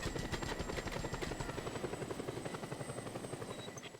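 An Air Force helicopter arriving in a video game, its rotor thumping in a fast, steady pulse over an engine whine, moderately loud and continuous with no talk.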